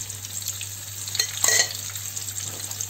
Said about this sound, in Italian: E le tuffiamo nell'olio.